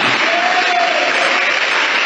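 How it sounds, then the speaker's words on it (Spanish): A congregation claps together during a church service, a dense, loud, continuous wash of applause from many people. "Dele un aplauso a Él."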